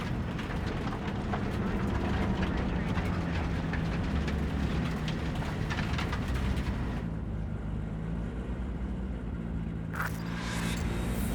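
A large train rumbling past in the video game Cyberpunk 2077, a loud continuous mechanical roar with rattling that drops away partway through, leaving lower ambience and a brief swelling hiss near the end.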